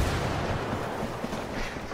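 A video game grenade blast produces a dense, loud, rumbling wash of explosive noise that fills the whole moment with sustained booming texture and no speech.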